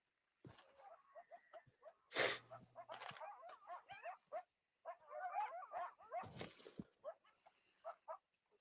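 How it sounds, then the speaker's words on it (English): Dogs bark and yelp within a video game, in a quiet, irregular flurry of short barks, whines and yips with a few louder bursts. "I hear dogs."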